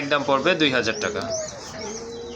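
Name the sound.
Lotan pigeons cooing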